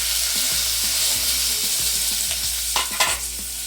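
Curry leaves sizzle and crackle in hot oil while tempering for an okra sambar, a loud, continuous frying hiss with a few spoon clinks against the pan as it is stirred.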